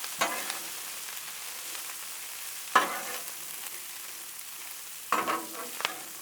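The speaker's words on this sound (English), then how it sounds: "We're going to cook that cabbage in it." Cabbage, onion and smoked sausage fry on a Blackstone griddle as a soft, continuous sizzle, broken by three louder bursts of scraping and stirring from a spatula at roughly even intervals.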